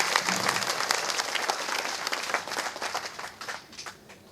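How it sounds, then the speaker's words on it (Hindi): Audience at a birthday and Holi gathering in Mehgaon, Bhind, breaking into enthusiastic applause, a dense patter of many hands clapping that rises and falls and tapers off toward the end. "जोरदार तालियां बजाएं।"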